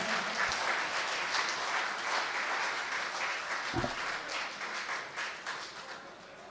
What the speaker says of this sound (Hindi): पूरा विद्यालय एक बार तालियों से मैं चाहता हूं।